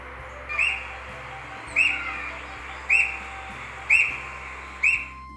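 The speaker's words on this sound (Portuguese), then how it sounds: "Neste painel dá para acessar pelo QR Code o canto de alguns pássaros do Paraná." Recorded songs of Paraná birds play from an information panel in a Curitiba park. Five evenly spaced whistled chirps ring out, clear and moderately loud over a faint low hum.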